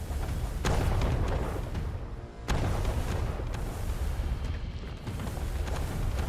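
Small area-of-effect explosions in the Dwarven Realms video game go off as repeated muffled booms and bursts, some sharp and some rumbling, layered over continuous game noise.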